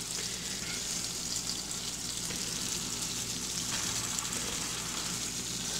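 Hamburger steaks fry in grease with a steady, dense sizzle and crackle that holds at even loudness throughout, close by, with no talk.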